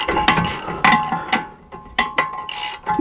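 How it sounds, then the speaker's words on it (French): A ratchet wrench clicks in short bursts while removing a front shock absorber on a BMW 1 Series, with sharp, close mechanical ratcheting strokes spaced irregularly. "Et là, ben, du coup, je peux me servir de mon cliquet."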